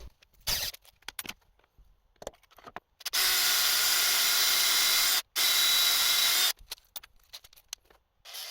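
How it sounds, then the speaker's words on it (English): A power drill drives a spiral point tap into a drilled hole while fitting a lathe DRO, with two loud sustained runs of whining motor separated by a brief stop, framed by scattered clicks and handling knocks. "drill the hole and run the tap in with a power drill"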